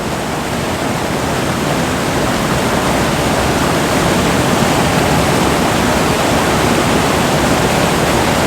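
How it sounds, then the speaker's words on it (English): Mountain spring water flows in a continuous, dense rushing hiss on an alpine loop in Colorado, close and steady from start to finish with no voices. "Getting some spring clean drinking water"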